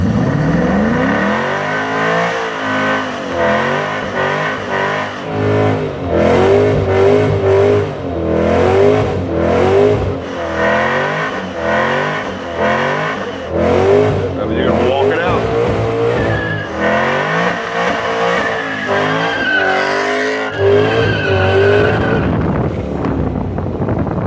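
A Holden ute on a burnout pad revs hard while its tyres squeal in long, wavering screeches, loud and close, with the engine note rising and falling over about twenty seconds as voices are heard beneath.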